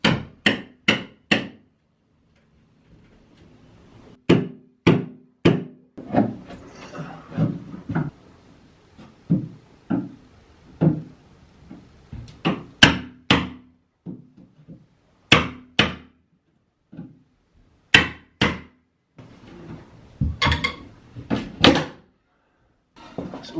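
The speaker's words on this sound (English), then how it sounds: "Kyle's going to do the bashing of the bookcase" A hammer bashing apart a nailed and glued bookcase while building an alcove cupboard, with loud sharp irregular whacks and knocks coming in clusters and separated by short pauses, close by.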